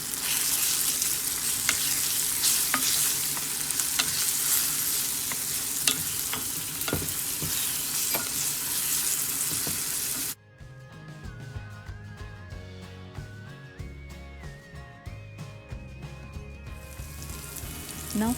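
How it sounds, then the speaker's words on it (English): Red chili powder is stirred into a frying mixture for Sri Lankan dhal curry, making a loud, dense, crackling sizzle with scraping stirs for about ten seconds, after which it gives way to music. "Now I am adding 1 teaspoon of red chili powder and stir well."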